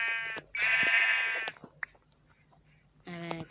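Two loud, drawn-out Minecraft sheep bleats separated by quieter clicks and small sounds, the bleats close and clear, like a game's animal sound effect.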